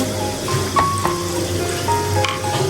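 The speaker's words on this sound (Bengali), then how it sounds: "জিরা, টমেটো, তারপরে আদা, রসুন, পেঁয়াজ একটা দিয়ে ব্লেন্ডার করেছি মশলাটা, এটা এখন দিয়ে দিব" A blended paste of tomato, ginger, garlic, onion and cumin is added to hot oil for chicken liver bhuna, giving a brief soft hiss and crackle with faint kitchen tones in the background.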